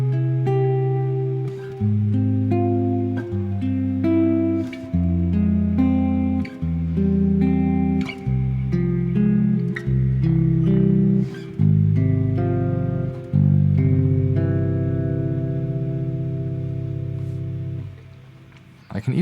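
An 8-string guitar plays drop 3 triad voicings in a four-minor-to-one progression, a steady run of clean chords changing every second or so and ringing out at the end, close and alone.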